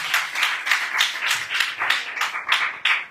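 Congregation at a Friday prayer meeting clapping together, a dense run of rapid overlapping hand claps filling the whole clip at steady loudness, with no voices over it.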